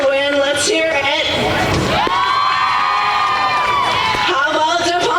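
Spectators at a Tampa versus Embry Riddle college baseball game cheer and whoop loudly, a continuous crowd roar with shouts rising over it and one prominent sustained voice in the middle.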